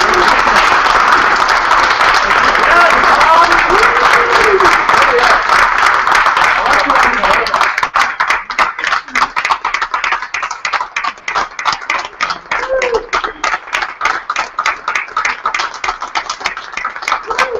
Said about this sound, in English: can we just say round of applause for John and Brett